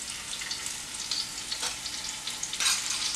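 Potato pieces shallow-frying in hot oil in a pan for Bengali egg curry, a dense continuous close sizzle with occasional stirring scrapes and louder spitting bursts toward the end.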